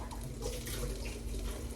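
Tap water runs steadily into a container holding leftover water and dish soap as it gets rinsed out, a close, continuous splashing rush without any talk.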